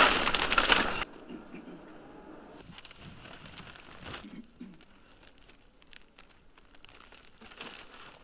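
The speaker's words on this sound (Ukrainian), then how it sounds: "Кожен пакет упаковується, скріплюється биркою." During a police search of a drug lab, plastic evidence bags are packed and sealed with tags: a loud burst of crinkling opens, then quieter scattered rustles, crackles and taps follow at close range.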